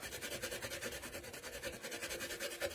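Close, rhythmic scrubbing on a Dollar Tree candle holder, with quick back-and-forth strokes repeating evenly at a moderate level.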